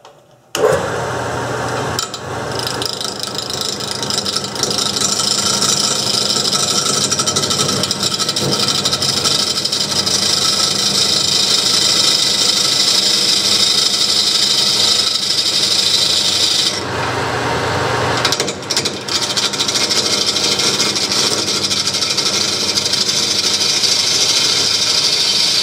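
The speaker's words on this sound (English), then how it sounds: "I'm going to take the parting tool and just lathe down into that" A parting tool cuts into a spinning bowl blank on a wood lathe, giving a steady, loud scraping rasp that runs almost without a break, with a short dip partway through before the cutting resumes.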